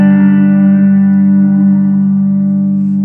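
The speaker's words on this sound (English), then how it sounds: "It stretches out the actual reverb, but not necessarily the feedback." An Electro Harmonix Cathedral reverb pedal holds a sustained, loud reverberant guitar tone with its pre-delay setting being changed, the wash ringing on evenly with no talking.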